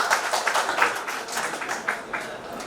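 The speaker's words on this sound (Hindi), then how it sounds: "तालियों की गड़गड़ाहट के साथ" Applause from an audience at a Rotary Club installation ceremony in Gadarwara, a steady patter of many hands clapping with uneven peaks, fairly close and continuing throughout.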